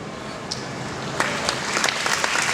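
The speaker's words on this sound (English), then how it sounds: "please give me a round of applause to Mr. Stephen Chi" Applause from an audience at a championship president's speech, honouring an editorial board member: a soft, steady bed of clapping that grows denser and brighter partway through, with a few sharper claps standing out.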